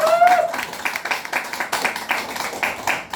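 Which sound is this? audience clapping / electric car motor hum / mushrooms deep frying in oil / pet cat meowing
audience clapping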